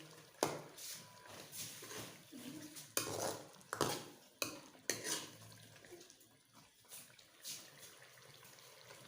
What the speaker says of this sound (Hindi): अच्छी तरह मिक्स कर लेते हैं।